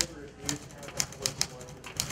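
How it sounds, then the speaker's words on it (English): Mechanical typewriter keys strike in a sparse, irregular rhythm of sharp clicks, moderately close, over a low murmur of background chatter at a bookstore's National Typewriter Day celebration. "The typewriter."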